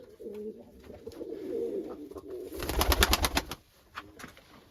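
Pigeons coo in a coop, soft rolling calls in the foreground followed by a brief burst of flapping wings, with no talking.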